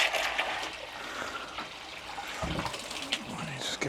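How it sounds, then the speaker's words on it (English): Dechlorinated water sloshes and swirls as a container is rinsed out, a soft, continuous close-up splashing with a few louder gurgles. "just give that a rinse out."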